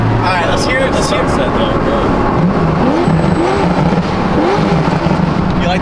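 BMW M4 engine revving under a steady roar with crackling exhaust pops, heard loud and close while someone talks over it.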